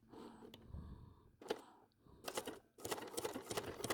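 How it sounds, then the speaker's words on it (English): A sewing machine stitches three lines of a decorative open fly stitch on wool appliqué. It runs in short bursts of rapid mechanical clatter broken by brief pauses, close and fairly quiet. "I'm doing the decorative stitching on the wing with the same thread, stitching 3 lines of an open fly stitch"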